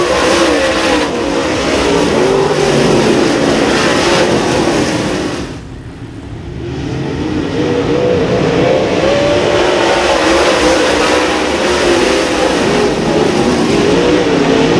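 Stock cars roaring around an oval dirt track under a caution, a loud, continuous pack of engines droning and revving that dips briefly as cars pass, then swells again, close and steady.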